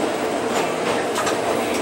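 A Cariri metro train runs along the line between Crato and Juazeiro do Norte, giving a loud, steady rumble of wheels on rails with a faint clickety-clack and light squeal, heard from inside the cab without voices.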